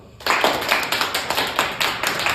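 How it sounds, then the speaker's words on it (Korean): Applause from a group, steady rhythmic clapping that starts abruptly and continues evenly throughout, fairly close with no talking. "자, 박수"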